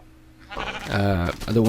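A white sheep bleating in Minecraft, heard as a close, loud, wavering bleat that rises and repeats briefly.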